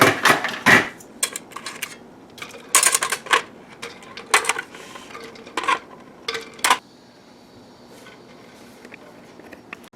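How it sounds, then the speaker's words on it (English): Boiled eggs, cooked seven minutes, are set into an ice bath, giving irregular sharp clinks and knocks against a bowl with brief clatters, then quieting to a faint steady hum. "And now I'm just going to put them in the ice bath."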